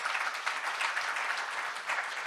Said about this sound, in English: do give them a round of big applause